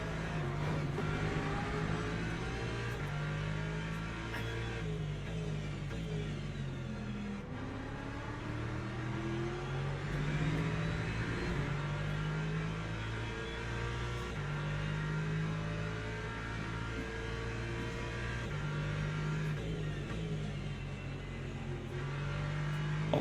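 Race car engines in Le Mans Ultimate, with a hypercar among the field, drone continuously at speed, pitch rising and falling through repeated gear shifts, loud and steady with no talk.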